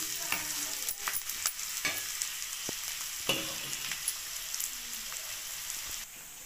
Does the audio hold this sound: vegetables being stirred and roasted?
yes